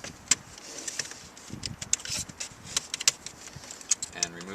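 Plastic gear shift trim panel being pried up by hand in a Ford Mustang: light clicks, snaps and creaks of interior trim close up, in short irregular bursts.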